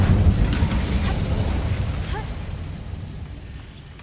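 A burst of fire from the Incendio spell in Hogwarts Legacy, a loud whooshing blast at the start that slowly fades into a low rumble with no talking.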